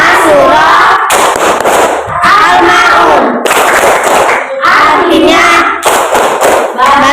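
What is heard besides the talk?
class of children doing rhythmic clapping chant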